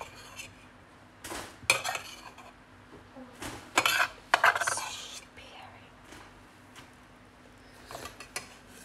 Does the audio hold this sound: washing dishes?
yes